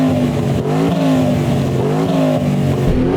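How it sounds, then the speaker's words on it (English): A turbocharged Aston Martin engine revs hard and loud up close, pitch climbing and dropping through several surges with a gruff, turbocharged growl. "Matt, let's have a listen to your car with turbochargers and stuff"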